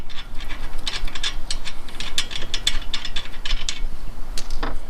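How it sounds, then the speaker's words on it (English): A ratchet wrench loosens the shock absorber bolts on a Mitsubishi Evo X during a coilover install, giving a loud close burst of rapid clicking that carries on for several seconds before a final short turn. "you're going to be breaking these 2 bolts right here and the one up top, which are actually holding the shock absorber into the suspension"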